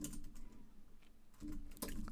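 Someone types code on a computer keyboard, quiet nearby clicking in quick irregular bursts with short pauses between them.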